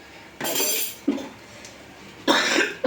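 A few harsh coughs, close and loud, three separate bursts with short pauses between them.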